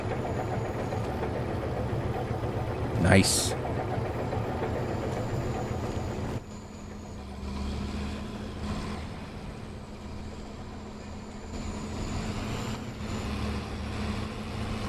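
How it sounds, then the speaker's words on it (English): Tractor pulling a mixing wagon in Farming Simulator 25, a steady low engine drone and idle running through the whole stretch, with a short sharp burst near the start and a brief spoken word. "Hear the tractor? The mixing wagon."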